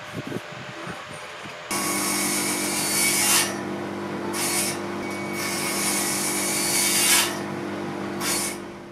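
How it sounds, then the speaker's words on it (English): A table saw with a standard blade starts after a quiet moment and cuts cross lap joints in old hardwood shelving, a loud steady motor whine rising into harsh grinding bursts as each pass bites the wood. "Cross lap joints were used a lot on this project, and I did all of these on the table saw with a standard saw blade."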